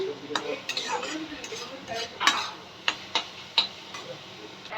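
Onions and two dried red chillies frying in a pan, a soft sizzle broken by sharp clinks and scrapes of a spatula stirring them, no talking.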